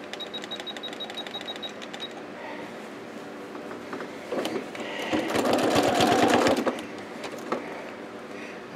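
Sewing machine running a small zigzag stitch for thread painting a beach landscape, a fast close mechanical whir that stops and restarts, swelling louder midway with some handling noise.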